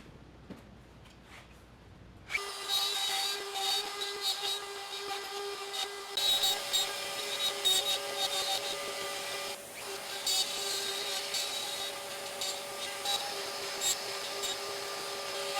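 Router cutting bow tie inlay recesses into a cracked wooden tabletop through an acrylic template, a steady high whining drone that starts abruptly and runs on with slight fluctuations, close and continuous.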